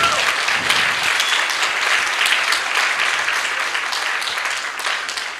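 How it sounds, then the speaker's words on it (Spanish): A church congregation applauds during a sermon, a loud, dense and sustained wash of clapping that fills the room and tapers only slightly by the end. "Denle un aplauso."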